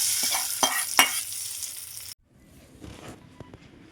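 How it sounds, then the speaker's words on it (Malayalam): A mustard seed tempering is poured into a shallot pappadam curry, giving a bright burst of sizzling with a couple of sharp crackles, then cutting to a faint, low simmer. "കടു താളിപ്പ് റെഡി ആയിട്ടുണ്ട് അതിന് ഒഴിച്ചു കൊടുക്കാം"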